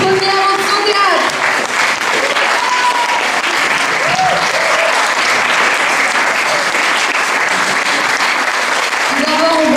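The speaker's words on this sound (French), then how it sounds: "Un tonnerre d'applaudissements à l'équipe de première option théâtre." Loud, sustained applause fills a theatre hall for a high-school drama class after their play, dense clapping throughout with shouts and cheers from the crowd rising over it.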